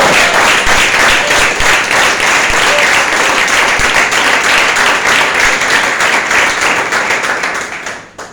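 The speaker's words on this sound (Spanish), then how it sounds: "Y yo les doy un aplauso." A large crowd applauds steadily and loudly for several seconds, the clapping fading away at the very end.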